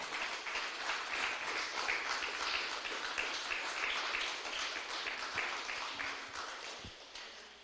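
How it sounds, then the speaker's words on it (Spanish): Church congregation clapping for the Lord, a sustained, dense applause from a crowd filling the room, steady and fairly loud before easing off at the end. "Denle un aplauso fuerte al Señor."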